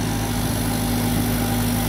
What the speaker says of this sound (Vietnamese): ghe lúa đang di chuyển nha mấy con